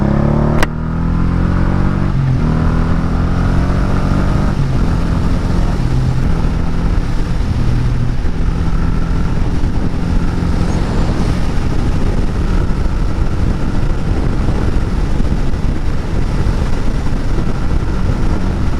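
A Honda Shadow motorcycle engine revving and roaring loud and close as the bike spins around on gravel, with a steady engine drone rising and falling in pitch throughout.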